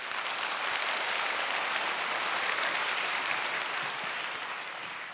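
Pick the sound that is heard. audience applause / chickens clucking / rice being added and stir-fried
audience applause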